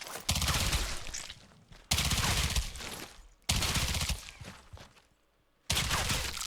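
A video game AI character firing nonstop while moving to cover: four loud bursts of automatic gunfire, each about a second long, separated by short lulls.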